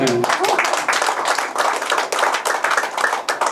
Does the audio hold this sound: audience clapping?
yes